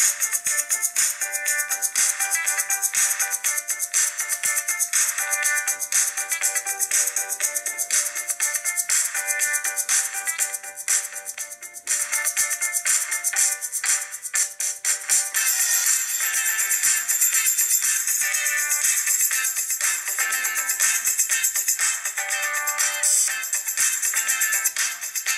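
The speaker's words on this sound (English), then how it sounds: "Now let's listen to the DTS effects in action." A Gionee Elife S5.1 phone speaker plays music with DTS effects, bright and tinny with steady rhythmic notes and no bass, continuing unbroken with a brief dip midway.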